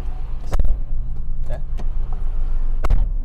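Car traffic on a busy road during holiday travel, a steady low engine rumble with a few sharp knocks and clicks, heard from close by with a voice speaking over it.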